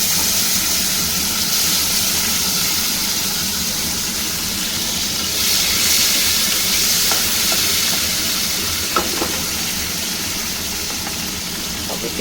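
Chopped tomato goes into a pan of hot oil for a Bengali boal fish curry, giving a steady broad sizzle and frying hiss throughout, with a few faint clinks of stirring near the end.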